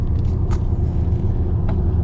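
A 1978 Chevrolet Corvette C3 Indy Pace Car engine idles warmed up with a low, steady rumble close by, broken by a couple of faint airy hisses.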